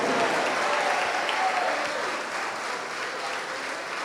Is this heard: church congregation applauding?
yes